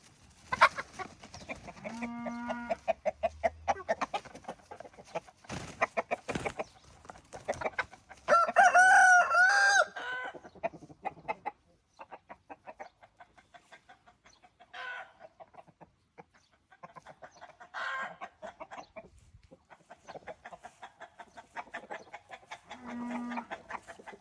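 Farm chickens cluck repeatedly in uneven bursts while a rooster crows loudly in the middle, then more scattered clucking follows among quieter gaps, fairly close by.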